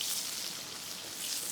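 Cod skin crisping in a pan over high heat, a faint, steady hiss of frying with fine crackling throughout.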